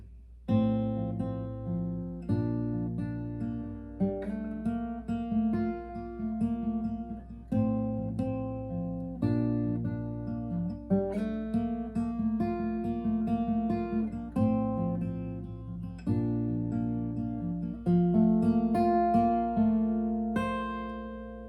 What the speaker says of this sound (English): that acoustic intro, it's gonna sound something like this